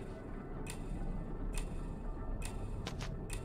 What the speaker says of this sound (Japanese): 時計の音。